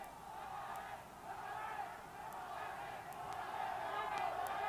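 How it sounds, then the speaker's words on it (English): Boxing crowd at a Mexican super flyweight title fight between Marco Antonio Barrera and Noe Santillana, a steady distant roar of cheering and murmur that swells slightly toward the end, with scattered shouts. "the crowd starting to cheer for their favorites right now"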